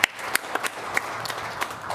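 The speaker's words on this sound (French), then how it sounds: "je vous demande encore d'applaudir pour tous nos volontaires" A church congregation applauds its volunteers, a soft, steady patter of clapping from a modest crowd with a few sharper claps standing out, faint and somewhat distant.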